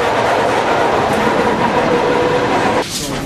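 A Russian electric commuter train rolls along the rails with a steady, loud rumble and rattling, close and continuous, shifting character near the end as the carriage noise changes.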